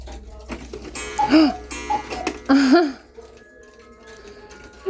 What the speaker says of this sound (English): So the ticking, the chiming, the movement, and the musical movement you can see takes a lot of energy.